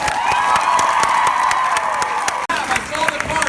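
Panel audience at San Diego Comic-Con 2017 applauding and cheering, a dense steady wash of clapping with scattered shouts that runs on, briefly dips, then carries on loudly.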